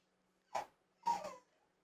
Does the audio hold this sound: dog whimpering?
yes